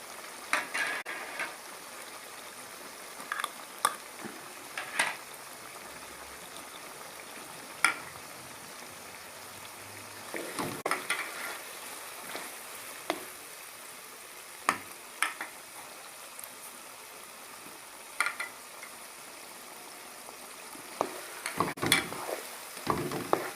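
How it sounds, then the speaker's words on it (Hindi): Meat frying and sizzling in a pan as spices are stirred in for aloo matar gosht, with a steady hiss broken by sharp scraping stirs and clanks at irregular intervals throughout. "और अब मैं इसके अंदर ये गोश्त डाल के थोड़ा इसकी भुनाई करूंगा"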